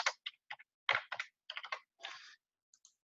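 Quick bursts of typing on a computer keyboard, clicking keys in short uneven clusters with brief pauses between them, close and fairly quiet with no talking.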